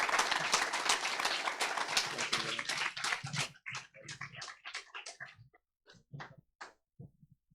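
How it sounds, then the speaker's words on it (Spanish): Loud, dense applause fills a church during a Father's Day service, a sustained wash of clapping that thins into scattered individual claps and trails off into a few final ones. "Fuerte aplauso a Dios, Dios es bueno."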